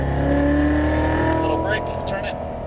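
A Chevrolet Corvette Z06 Stingray engine drones on a track under smooth acceleration, a loud steady tone rising slightly in pitch from inside the car, while a voice talks over it.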